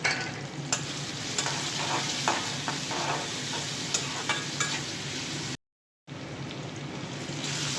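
Chopped onion and garam masala sizzle in hot oil while being stirred, a close, busy frying crackle with scraping strokes, briefly cutting out near the end before resuming.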